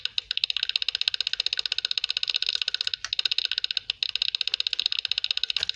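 Fast, even mouse clicks repeat many times per second during play of the game Cookie Clicker, close and crisp, with two brief pauses.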